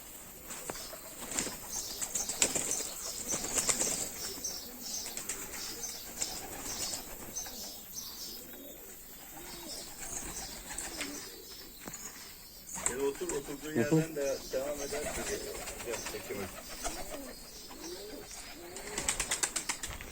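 Pigeons, including oynar, hünkari and çakal breeds, cooing and flapping their wings in bursts around a person talking, with occasional chirps from other birds nearby.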